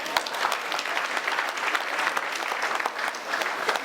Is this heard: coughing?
no